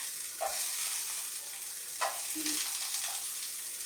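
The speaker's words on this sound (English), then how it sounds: "Y'all hear that sizzle?" Steady crackling sizzle of frozen broccoli frying in a hot pan, with a few brief clinks and stirring bumps over the continuous hiss.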